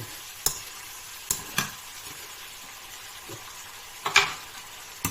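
Bean sprouts and pork belly stir-fried in a pan: a steady close sizzle with several sharp scraping clacks of the spatula against the pan, scattered irregularly through the few seconds.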